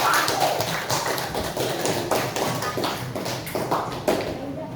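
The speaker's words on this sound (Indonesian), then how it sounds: "Oke, tepuk tangan untuk Putri." A classroom claps for a student named Putri, a dense patter of many hands applauding together at steady strength for several seconds.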